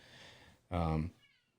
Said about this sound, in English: Freaking cat's meowing in the background.